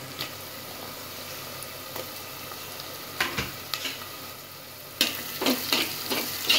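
Onions, curry leaves and sliced garlic cloves frying in a pan for dried-fish kuzhambu, a soft continuous sizzle broken by scattered stirring scrapes that grow busier toward the end, close and moderately quiet, no voices.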